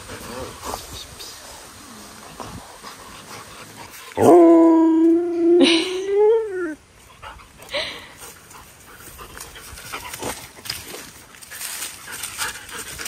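A dog pants close by, then breaks into a loud, wavering howl lasting a few seconds before returning to panting, with a person talking before and after the howl.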